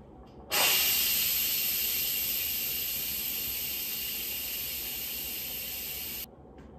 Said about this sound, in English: After the pressure has released naturally for 5 minutes, let's quick release the remaining steam.